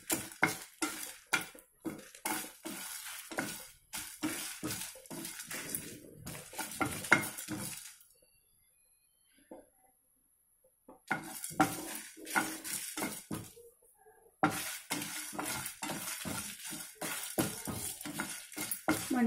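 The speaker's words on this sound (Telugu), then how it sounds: "ఇవన్నీ కొంచెం డ్రై రోస్ట్ వచ్చేటట్టు వేయించుకుందాం." Spices and dried red chillies dry roasting in a pan for Andhra dappalam, stirred with a utensil in repeated scraping, rattling strokes, close and steady, with a quiet pause midway before the stirring resumes.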